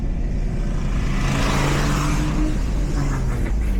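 A manual car pulls out of a parking lot and accelerates, its engine a loud, steady low drone heard from inside with road and tire roar underneath.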